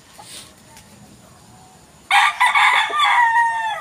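A Boston Roundhead rooster crows loudly and close up, a strong, wavering call that bursts in about halfway through after a near-silent start and carries on to the end.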